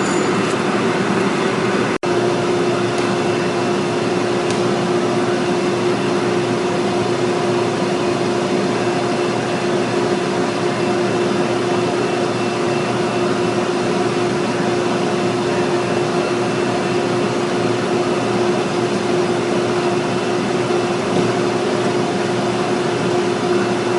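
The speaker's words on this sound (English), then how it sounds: "All this sander does, if we'd happen to leave a little blade nick, it's going to feather that out" Sander smoothing the cut end of a newsprint roll, a loud continuous motor whine and abrasive hiss held steady the whole time, with a brief click early on and no talking.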